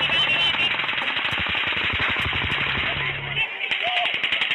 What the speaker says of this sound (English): Okay, just sounds like machine guns